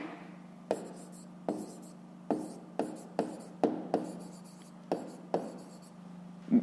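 Pen strokes on paper, close and quiet: about ten short scratchy taps and strokes at an irregular pace over a faint steady hum.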